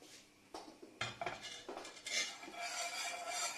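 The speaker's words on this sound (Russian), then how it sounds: "а только мешаю до того момента, пока все ингредиенты растворятся" A utensil scrapes and clinks against the side of a pot while stirring orchid nutrient medium over low heat, irregular strokes building into a continuous swirling sound.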